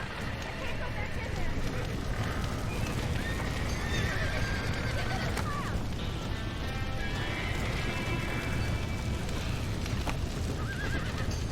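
Horses in Red Dead Redemption whinny and neigh over the continuous pounding of galloping hooves, with a dense, loud mix of clip-clop and repeated calls, and voices talking underneath.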